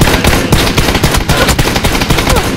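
Sustained rapid gunfire in PUBG, dense bursts of automatic shots rattling continuously at close range without pause.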